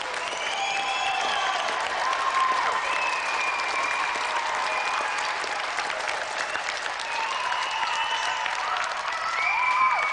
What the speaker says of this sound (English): So let's have a final round of applause for Jamie Brown and tonight's special guest,